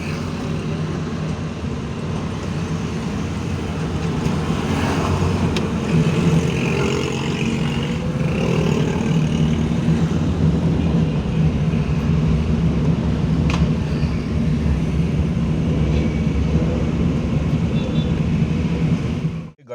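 A Suzuki Mehran with a misfiring engine and jerky, poor performance hums steadily from inside the cabin as it is driven, a continuous loud drone with no voices.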